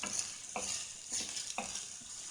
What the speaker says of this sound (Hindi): फ्राई करेंगे इसका लाइट गोल्डन कलर करना है प्याज का।